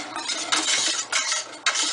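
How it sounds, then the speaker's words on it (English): A utensil stirs a thick chocolate strawberry sauce mixture with pectin in a pot, scraping in three or four rhythmic strokes, close and fairly loud, with no voices. "We're going to heat the mixture until boiling, stirring frequently."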